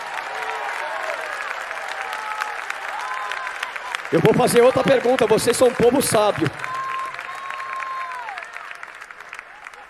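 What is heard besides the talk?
congregation applauding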